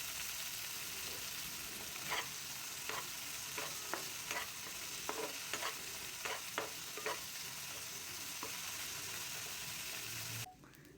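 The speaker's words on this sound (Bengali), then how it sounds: "এরপর মাছগুলো আমি দিয়ে দিচ্ছি ভাজার জন্য।" Shrimp fry in hot oil in a wok with a steady, quiet sizzle, broken by a series of sharp stirring clinks before the sound cuts off abruptly.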